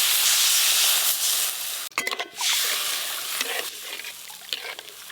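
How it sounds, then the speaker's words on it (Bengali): Hilsa fish curry broth bubbling at a boil in a cooking pan, a steady hissing, trickling simmer throughout with a brief clatter near the middle and faint kitchen sounds around it. "ঝোল একদম টকবকে হয়ে ফুটে গেল"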